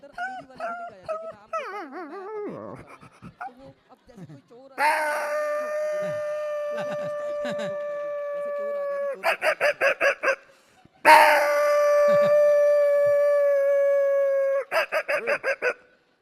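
A man imitates a dog with his voice, making a howling call to summon the daughter-in-law: two long sustained howls, each ending in a quick run of short yelps, close and loud, after a stretch of other whimpering animal-like vocal sounds.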